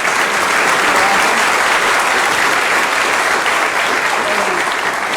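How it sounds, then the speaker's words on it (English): A loud, dense round of applause from the audience at a military promotion ceremony to colonel, sustained evenly throughout. "Let's give her a little round of applause for that."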